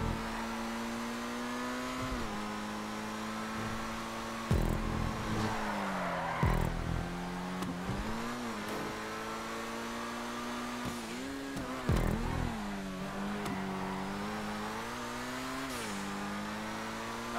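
An RE7B race car engine in GTA 5, driven at Zancudo River Delta: a loud, high-revving engine that climbs and drops through gear changes, with sharp shifts and brief bursts of louder noise.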